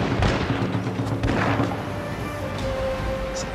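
Cannons fire in a Total War: Shogun 2 naval battle as deep, overlapping booms and thuds within a dense, loud battle din, with no voices.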